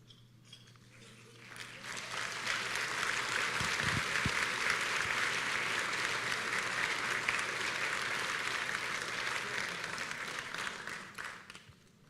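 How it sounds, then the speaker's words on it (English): Sustained applause from an audience at the Los Angeles County Quality and Productivity Awards, building quickly into a dense, steady wash of clapping that holds for about ten seconds before tapering off. "please join me in another round of applause for all the winning"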